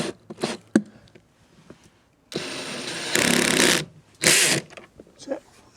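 A power tool torques down a bolt during repair of a Nilfisk P180 pressure washer with an electrical fault, giving loud close rattling bursts separated by short pauses, with brief speech around them.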